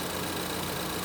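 A turbocharged 2.0-liter EcoBoost four-cylinder in a 2013 Ford Escape idles with a steady, even hum and faint vibration, heard up close on its own without any talk.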